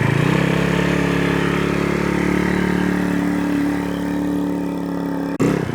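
A 50cc GY6 scooter fitted with a big bore kit runs steadily at a close, loud idle with a buzzing, even drone, briefly cut off near the end before it resumes.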